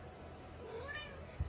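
A single cat meow, fairly close, over a low background hum, ending with a short thump.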